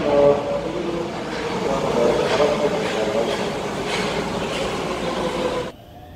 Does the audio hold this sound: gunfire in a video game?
no